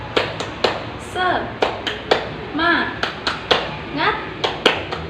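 A classroom of children joins a teacher in the 'tepuk semangat' clapping chant, sharp claps landing in a steady rhythm between short bursts of chanted voices.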